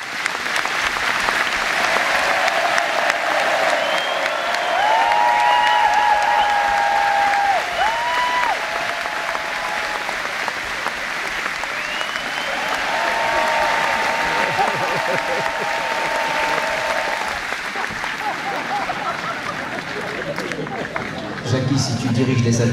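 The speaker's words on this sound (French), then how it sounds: "Les choristes applaudissent plus fort que la salle." Choir singers and a concert-hall audience applaud together at a concert performance, a steady dense wash of clapping throughout with crowd murmur mixed in, loud and sustained for over twenty seconds.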